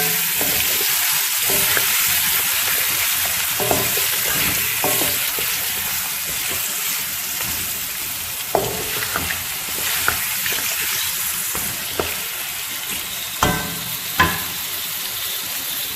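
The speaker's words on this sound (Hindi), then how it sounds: "चिकन डाल के हम अच्छी तरह से इसको मिक्स कर देंगे," Chicken pieces sizzle and fry in a karahi while being stirred, a constant bright crackle broken by scrapes and knocks of the spoon against the pan.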